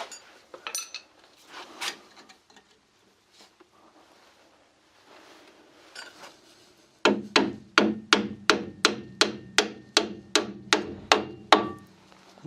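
Metal taps lightly on a big screwdriver wedged between the driver-side suspension parts of a Peugeot 205 GTI, a run of about a dozen evenly spaced ringing clinks close by after a few scattered knocks.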